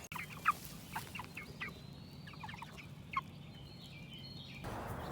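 Cornish cross meat chickens let out scattered soft clucks and short calls from a flock at moderate distance, low in level over faint background noise, with no talk.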